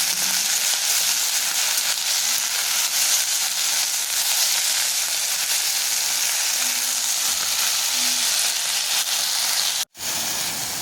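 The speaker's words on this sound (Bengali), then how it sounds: "এরপর আবারও ভালো করে নাড়িয়ে চাড়িয়ে মিশিয়ে দেবো" Fried potatoes stirred into sour spinach in a hot pan, giving a loud, continuous close-up sizzle that hisses steadily throughout, with faint stirring underneath and a brief cut near the end.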